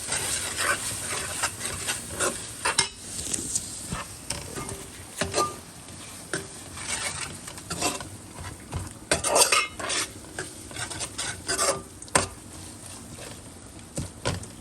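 Masala paste for a pomfret fish curry frying in a pan while a utensil stirs it, giving a steady sizzle broken by repeated scraping and clinking strokes, close and fairly loud, with no voices.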